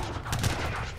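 Gunfire in the Age of Empires 3 campaign, a short burst of loud, overlapping shot cracks in the game's battle audio, heard on its own with no talk.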